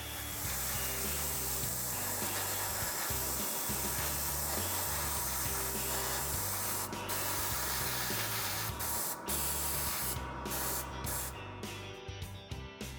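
An airbrush sprays Mr. Color 126 Cockpit Color Mitsubishi green inside a part of a Hasegawa 1/48 A6M2b Zero model, a continuous close hiss with a low mechanical hum under it.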